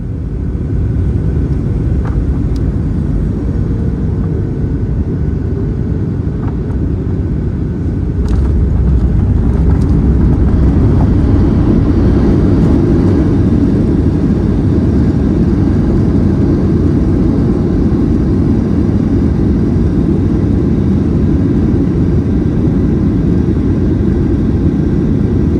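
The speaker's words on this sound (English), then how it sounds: "now enjoy the landing and approach into Brisbane Airport" Steady, loud cabin roar inside a Qantas Boeing 737 on landing approach into Brisbane, a continuous low engine and airflow rumble that swells slightly partway through, with no talking.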